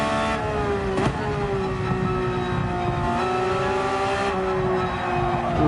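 A Porsche 911 GT3 racing in Gran Turismo 7 at Mount Panorama, its engine held at a high, steady rev with a brief throttle blip and slight pitch shifts, loud and continuous with no talk.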